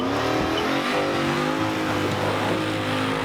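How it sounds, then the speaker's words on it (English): A loud Toyota petrol V8 engine in a Land Rover Defender 130 revs up and settles in repeated throaty bursts, close and continuous, with no talking over it. "it's a petrol V8 motor. It's got relatively good power. It revs good."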